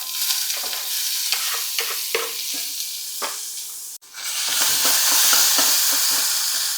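Tomatoes and onion hit hot mustard oil with cumin, and a loud, close sizzle follows as a utensil stirs and scrapes the pan. It dips briefly, then swells back to an even stronger, continuous fry.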